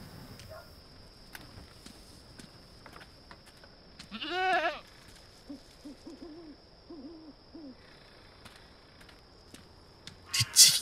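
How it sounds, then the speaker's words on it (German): Goats in the game Dreamfall Chapters let out one loud wavering bleat, followed by several fainter short bleats. A quiet background with a high steady whine runs underneath. "Die Ziegen sind die einzigen. Jedes Mal, wenn wir vorbeilaufen, meckern die."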